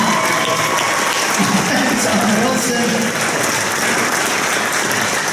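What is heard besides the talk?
audience applause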